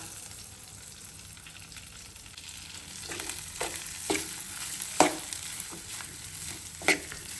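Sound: pulao being stirred and heated in a pan

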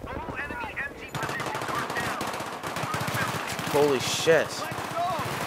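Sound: gunfire in Battlefield 3 video game

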